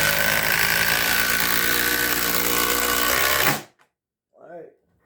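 A Ridgid sub-compact cordless impact driver fastens into wood, whirring and hammering loudly and continuously for over three seconds before stopping abruptly, followed by silence and a brief voice.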